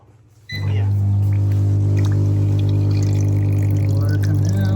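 Water pumping and pouring out of an Ecovacs Deebot X1 Omni robot vacuum's base station, a sudden loud steady motor hum and gushing flow that starts abruptly after a quiet moment and runs on continuously, close by.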